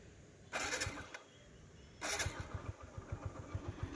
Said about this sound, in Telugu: ఇప్పుడు మేము ఒకసారి ఇంజిన్ బీటింగ్ అని వినేద్దాం.